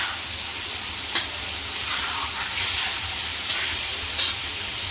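Chopped liver fries in oil on a flat tawa with a continuous, close sizzle, punctuated by a few soft stirring scrapes. No one talks.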